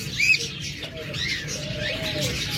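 Male lovebirds in breeding condition giving mating calls, a few short chirps and thin whistles over a low murmur of background noise, with faint speech nearby.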